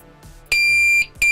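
A Pyronix Enforcer alarm system sounds after a door is opened, giving a short beep followed by a loud, sustained electronic tone that stops and then starts again, close and clear.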